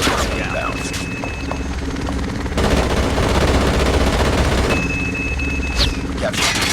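In a shooter video game, an attack helicopter sweeps in with rotor thrum while bursts of automatic gunfire and explosions rattle across the scene, loud and dense, with game voice callouts mixed in.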